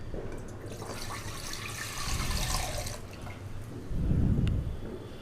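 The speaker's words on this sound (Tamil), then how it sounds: "இதை 4 தடவை வடிகட்டி இந்த அடுப்பை பற்ற வச்சு ஊற்றணும்." Cottonseed milk, ground and filtered four times, is poured into a pot on a lit stove, giving a soft continuous splashing trickle that swells louder near the end, with no talking.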